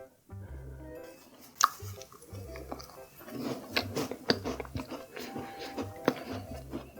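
Crunchy low-sugar chocolate snacks from the Lotte Zero range being chewed close up, with irregular crisp snaps and wet mashing, and several sharp crunch peaks amid quieter bites.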